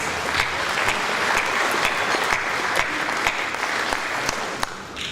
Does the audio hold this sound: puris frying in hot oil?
no